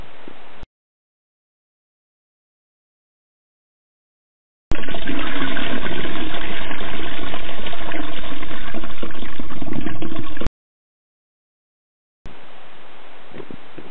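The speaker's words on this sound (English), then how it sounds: "The reservoir is filled by a tap." A tap pouring water into a reservoir, a loud, steady rushing gush lasting several seconds, heard close with no talk and silence on either side.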